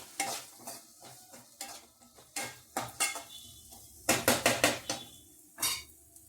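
Half a spoon of turmeric is stirred into hot oil in a pan for a potato and yellow cucumber curry. Close, irregular spoon scrapes and clanks against the pan ride over a soft sizzle, with a burst of quick strokes near the end; no one speaks.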